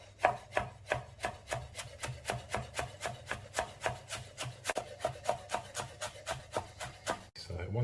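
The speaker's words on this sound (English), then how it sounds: "here we have half bunch of coriander, which we need to chop it finely" Fresh coriander being finely chopped with a knife, a steady run of sharp, evenly spaced blade taps against a board, close and crisp, with no talking.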